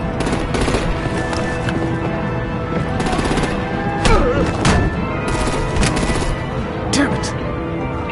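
Gunfire and artillery in Batman: The Enemy Within, rapid bursts of shots and sharp impacts rattling over a dense, noisy battle din, with voices shouting amid the fire.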